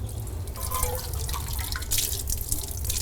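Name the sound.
water rinsing a steel article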